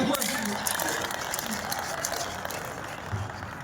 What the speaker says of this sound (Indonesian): tepuk tangan untuk kamu semua